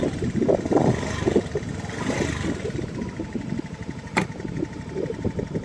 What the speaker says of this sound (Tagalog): Taasan natin yung motor to. Revolusyon natin tong motor na nagcha-charge sa kanya